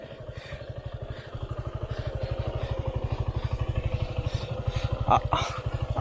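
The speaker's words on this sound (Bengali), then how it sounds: "বাইক নাকি চাবি ছাড়াই চলছে" A motorcycle engine idles close by with a fast, steady putter that holds even throughout, with a brief clatter near the end.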